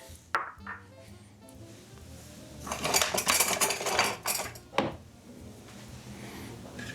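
A utensil stirs pizza sauce with clinks and scrapes against the pot. An early tap leads into a louder burst of stirring midway, then a final knock, all close and without speech.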